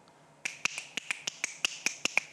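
Finger snaps ring out one after another, about eleven sharp clicks in a loose irregular rhythm, close and clear with no talk, heard alone in a quiet room.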